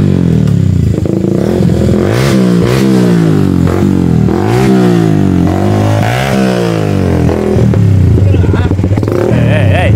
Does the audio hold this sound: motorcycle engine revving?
yes